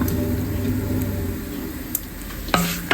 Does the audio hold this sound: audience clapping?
no